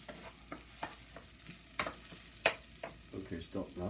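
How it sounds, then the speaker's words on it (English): Vermicelli and rice fry in an oil and butter mixture while being stirred, giving soft sizzling with repeated scraping strokes and light clatters of the utensil against the pan. "And fry this for about a minute and a half."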